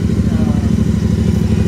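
A Royal Enfield Interceptor motorcycle idles close by, its aftermarket exhaust giving a loud, steady low thumping pulse with no revving.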